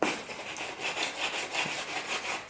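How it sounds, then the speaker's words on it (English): Steady scratchy rasping of coarse sandpaper on a sanding block shaping balsa wood model aeroplane wing tips, with a repeated back-and-forth rhythm, close up and fairly quiet. "this is quite coarse sandpaper"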